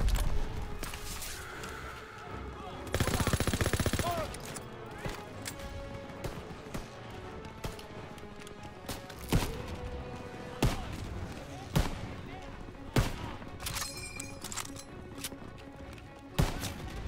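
Gunfire in the World War II shooter Call of Duty: WWII, with scattered single shots and short bursts at irregular intervals, some sharp and close, a dense loud burst early on, heard among game music and battle noise.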